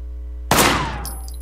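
A single sharp gunshot cracks out loud and close in the video game Sleeping Dogs, then rings off with a short decaying tail.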